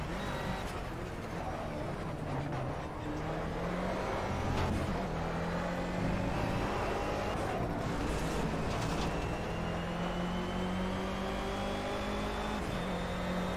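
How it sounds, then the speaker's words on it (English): Car engine in the racing game Project CARS, revving and shifting through gears in a steady, loud drone with rising and falling pitch and brief throttle lifts, no talking. "commentating on a racing game when I'm just driving"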